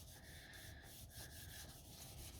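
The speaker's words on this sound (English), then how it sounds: "I will rub this all off" Chalk writing being rubbed off a board: a faint, close, rhythmic scrubbing of back-and-forth strokes over a couple of seconds.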